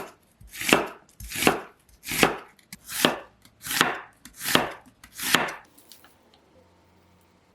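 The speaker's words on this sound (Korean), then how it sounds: "양파는 채 썰어주세요." A knife slices an onion into thin strips on a cutting board in seven even, rhythmic strokes, each a crisp, close cut followed by a short pause, then quiet.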